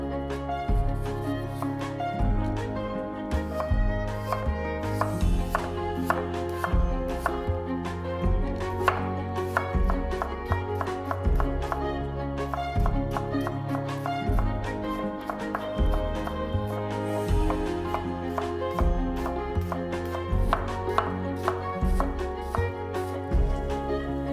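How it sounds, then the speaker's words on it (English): A knife cuts an apple into thin matchsticks on a board with rapid, steady rhythmic chopping taps, close and clear, and no talk. "Thinly slice 1 apple into thin matchsticks."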